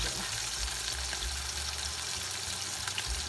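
Potato wedges frying in hot oil, a steady dense sizzle that holds at an even level throughout, with no talk over it.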